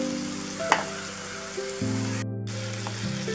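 Chopped onions for Indian street-food pav bhaji fry in a pan with a steady close sizzle, a brief utensil clink early on, and a low hum running underneath.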